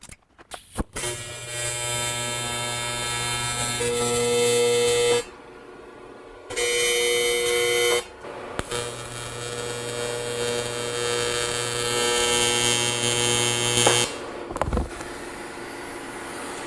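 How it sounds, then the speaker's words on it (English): Tack welds going onto a shaped metal car body panel for the rear section of a custom car: loud, steady electric buzzing in several long bursts separated by short quiet gaps, with no voices. "Now I'll put some tack welds on this."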